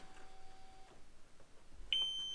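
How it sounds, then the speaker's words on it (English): A Kawasaki Ultra 250X jet ski gives its low fuel warning, a single steady high electronic beep that starts near the end and holds, faint against a quiet background. "I have no fuel, so it's beeping low fuel"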